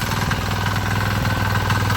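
A tractor engine chugs steadily nearby, a loud, rhythmic diesel thrum with a constant pulsing beat and no other sounds.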